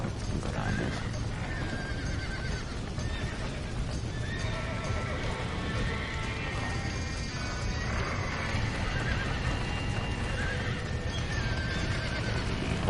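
Horse neighing and whinnying in the Red Dead Redemption video game, with steady hoof clip-clop and a busy, dense game soundscape throughout, loud and continuous.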